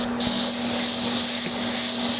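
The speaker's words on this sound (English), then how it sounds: "So what I'm spraying out of the airbrush right now is really straight out of the bottle." An airbrush sprays undiluted paint onto wood, giving a steady, close, even hiss with a short burst of air right at the start and no talking.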